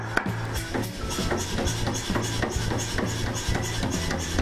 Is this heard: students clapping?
no